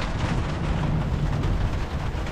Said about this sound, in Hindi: बादल गरजने की आप लोग आवाज़ सुन सकते हैं